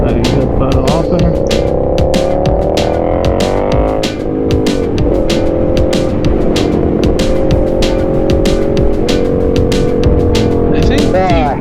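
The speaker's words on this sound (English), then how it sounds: "You gotta love the lively engine in this Trident." Triumph Trident 660 three-cylinder motorcycle engine running steadily and loud throughout while riding on the 2021 model, with shifting pitch changes, wind rush and a voice speaking over it.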